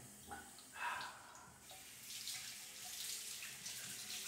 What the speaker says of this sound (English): Running water helps me to think.